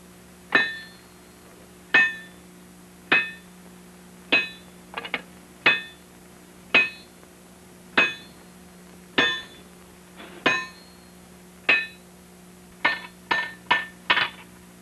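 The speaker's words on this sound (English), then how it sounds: "Here he will heat and hammer a bar of solid wrought iron into a flat scalp, heavy at one end" Blacksmith hammering a bar of solid wrought iron into a flat gun-barrel scalp at the forge, evenly spaced ringing metallic strikes roughly every second or so, then a quicker cluster of blows, clear and close.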